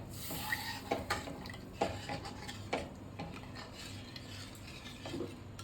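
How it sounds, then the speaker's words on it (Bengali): Spice paste (masala) is stirred with water in a bowl, making a steady series of close, soft scraping and clinking strokes with a few sharper taps against the rim, quiet and without speech. "ভালো করে মশলাটা মিশিয়ে নেব।"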